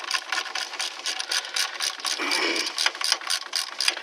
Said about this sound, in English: Now we take our socket and our 10 millimeter little socket here and ratchet